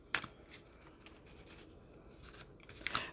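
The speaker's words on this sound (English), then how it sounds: "Let me shuffle them just a little bit to try to get our last card here." Cards are shuffled by hand, a faint close riffling and sliding with a couple of sharper snaps at the start and end, no voices.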